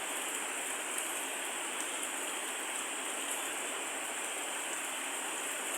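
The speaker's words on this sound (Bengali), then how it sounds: "কেমন জোরে বৃষ্টি হচ্ছে" Heavy rain pours down steadily, a dense, even hiss of drops on surfaces that carries on without a break and without any voices.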